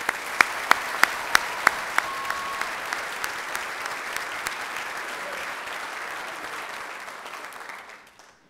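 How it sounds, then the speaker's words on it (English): An audience applauds at an evening senior salute event: a few sharp, close claps ring out over a full, steady round of clapping that holds and then fades out toward the end. "And one more round of applause for everyone."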